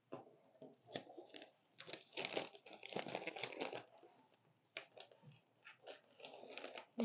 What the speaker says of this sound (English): I'm going to put them in a nice plastic bag.